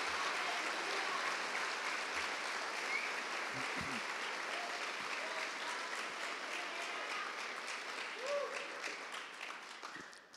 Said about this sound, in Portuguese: Dê um aplauso bem forte ao Espírito Santo de Deus.